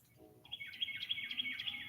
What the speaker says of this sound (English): I just can't tell whether they're red birds or other birds.